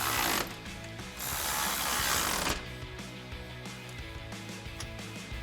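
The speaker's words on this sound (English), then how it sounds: "you can now tighten these two down using a 13mm socket" A ratchet with a 13mm socket tightens bolts on side step bars for a 2024-2026 Toyota Tacoma, rapid clicking pawl strokes in bursts, close and clear, with no talking.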